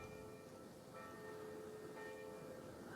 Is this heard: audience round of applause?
no